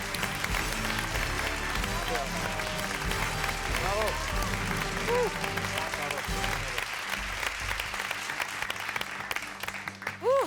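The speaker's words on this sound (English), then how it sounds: "And of course, big applause for Tel!" Audience applause during a televised semifinal of a classical music contest show, heard under music and an announcer's talk, with a continuous crowd clapping bed throughout and a few whoops rising near the end.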